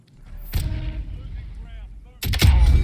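Sniper rifle fire in the Warzone video game: two loud, sharp gunshot cracks about two seconds apart, with a booming tail after each and quiet game ambience between them.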